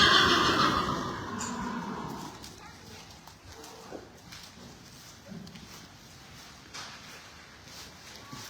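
A horse whinnies loudly at the start, a long shrill neigh fading out, followed by quieter rustling and a person speaking briefly.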